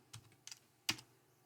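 A few separate keystrokes on a computer keyboard, close and fairly crisp, the last tap the loudest, with quiet room tone in between.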